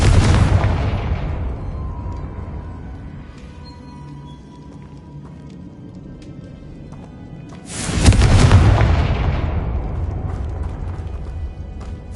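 A Confringo spell goes off in a Harry Potter video game, a booming blast with a mechanical whirring tail that fades, followed by a second sudden explosive burst that slowly decays.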